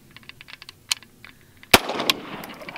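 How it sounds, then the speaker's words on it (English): A single loud, sharp gunshot fired at Vietnam War-era body armor outdoors, preceded by small clicks and handling noises and followed by a lingering rumble and echo. "Okay, take a shot."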